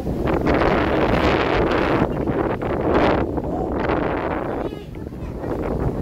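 Strong typhoon wind buffets the microphone in loud, continuous gusts, with faint voices underneath.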